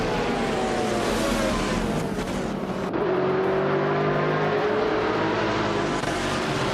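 A BMW M3 E46 GTR race car engine roars in a racing video game on the Okutama Reverse track, a loud continuous high-revving drone with a gear shift partway through, steady and close with no voices.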